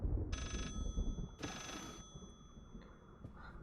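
Telephone ringing in the horror video game Layers of Fear: two bursts of ringing with steady tones, the first brief and the second longer and brighter, over low rumbling ambience.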